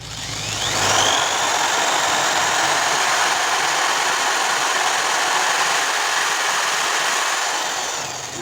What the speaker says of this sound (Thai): เจาะไปเรื่อยๆนะครับ มันจะเกิดความร้อนนะครับจะทะลุเองนะครับ